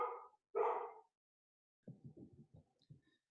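A dog barks twice close by, loud and sharp, followed by a few lower, muffled thumping sounds before it falls quiet.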